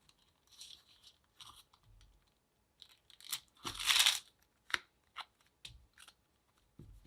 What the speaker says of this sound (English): I'm going to make this into a ball and just cut it in half